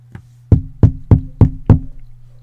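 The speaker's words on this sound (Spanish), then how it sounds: "Eleanor golpeó la puerta como si quisiera tumbarla." Five hard, evenly spaced knocks on a door pound out in a steady rhythm, close and loud, preceded by a faint lighter tap, with no voices.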